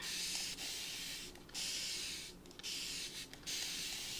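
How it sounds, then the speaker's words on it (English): Hissing bursts of water sprayed from a spray bottle, several short pumps in irregular succession with brief gaps between them. "And I'm just spraying some water on here."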